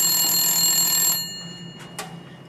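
An office telephone at a front desk rings loudly in a sustained electronic trill for about a second, then cuts off, leaving quiet room tone with a couple of faint clicks.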